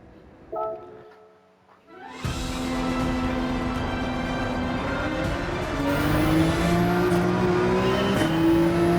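A Porsche 911 GT3 in Gran Turismo starts up with a burst, then its engine drones steadily and climbs in pitch as it accelerates through the gears, loud and alone.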